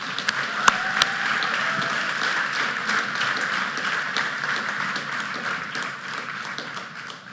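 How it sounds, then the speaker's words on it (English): An audience at a school graduation ceremony claps for parents and grandparents, a dense steady applause that fades slightly toward the end. "Let's have a huge round of applause for all the parents and grandparents, children."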